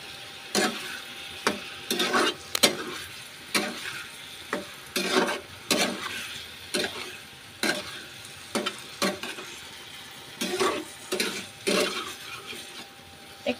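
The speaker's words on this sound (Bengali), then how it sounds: "এরপরে আলুগুলো দিয়ে মশলাটা একটু কষাবো" Spice paste and potatoes stir-fry in a pan, a soft sizzle broken by rhythmic scraping strokes of a spatula, roughly one every second, close and moderately loud with no talking.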